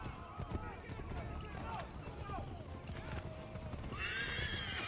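A horse gallops steadily in the video game Assassin's Creed III, its hoofbeats clopping in a fast rhythm with whinnies and snorts, all under a man's continuous speech.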